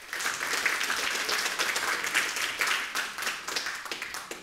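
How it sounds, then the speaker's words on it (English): A Church of Scotland parish congregation gives a round of applause as a man comes forward, a sustained, even clapping from many hands, moderately distant, with no talk over it. "If you'll give him a round of applause as he comes forward"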